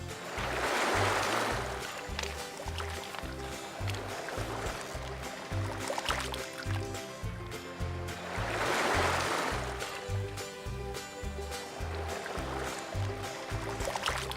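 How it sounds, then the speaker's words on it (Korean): Sea waves wash onto the shore of Cheongsando island in slow, broad surges that rise and fall twice over a steady rushing background, heard nearby without talk. "파도 소리 참 오랜만에 듣네요."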